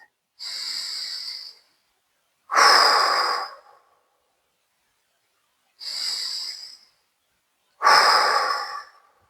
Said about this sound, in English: So just pause, relax, breathe.